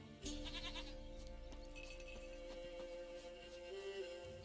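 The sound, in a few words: goat bleating in The Witcher 3 video game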